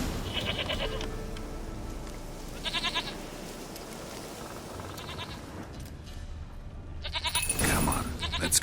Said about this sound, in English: Here, goat. Here, princess. Hoofed and horned.